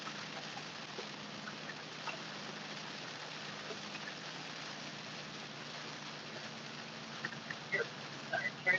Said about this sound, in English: It's going to continue downpouring like this.